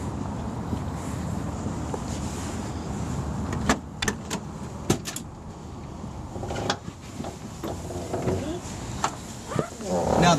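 A 1968 Shelby GT-350 convertible door shuts with a solid thunk among a few sharp clicks and knocks, over a steady low background rumble with faint voices.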